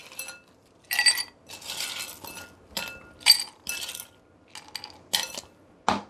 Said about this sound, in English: you're gonna fill your glass with some ice